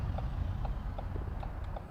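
A car's turn signal indicator ticking steadily inside the cabin during a driving lesson, several even, evenly spaced clicks over a continuous low engine and road hum.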